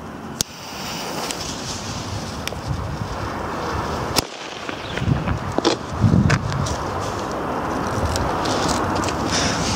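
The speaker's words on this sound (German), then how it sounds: "So, und jetzt zünden wir die Knallnachos von PyroArt." Pyro Art Knallnachos firecrackers detonate outdoors, sharp loud bangs at irregular intervals over windy background noise, followed by rustling and footsteps.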